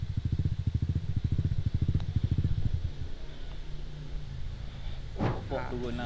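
A modified Benelli RFS150i motorcycle engine idles with a rapid, loud popping exhaust pulse, then fades to a low rumble before a voice briefly speaks near the end.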